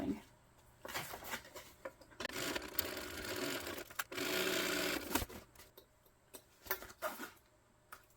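A sewing machine stitches a tote bag in several runs of rapid, buzzing needle action that start and stop, close by, with clicks and handling noises between the bursts.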